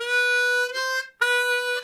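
Harmonica playing a few sustained draw and blow notes in turn, bright and reedy, with a short gap between them, played alone.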